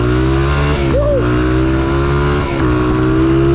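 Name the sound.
motorcycle engine revving, Yamaha or GSXR sport bikes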